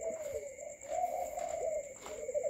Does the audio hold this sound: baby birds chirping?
yes